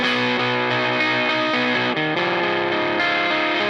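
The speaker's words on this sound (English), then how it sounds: "Love this fuzz." Electric guitar through a fuzz pedal plays a thick, saturated, sustained chord passage, loud and continuous with heavy distortion and a brief change of chord near the middle, with no voices.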